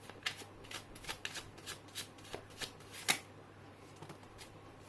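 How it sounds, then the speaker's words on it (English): Tarot cards are shuffled in a series of crisp riffling bursts, about a dozen soft close flutters in an irregular rhythm, quiet and without talk. "Let me get one tarot card to clarify that."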